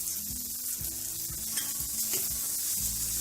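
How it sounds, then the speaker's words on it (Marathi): Red Kolhapuri chili powder sautéed in hot oil sizzles steadily up close, with a spoon stirring and scraping the pan in repeated strokes. "ते पण तेलात चांगलं असं परतून घ्यायचं"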